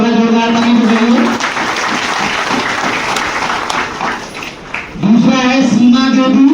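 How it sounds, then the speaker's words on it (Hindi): An audience at a women farmers' producer company annual general meeting in India claps for a newly chosen member, a burst of applause between stretches of a speaker talking. "दीदी के लिए थोड़ा जोरदार ताली बजाइए"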